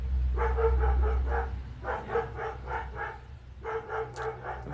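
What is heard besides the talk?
dog barking outside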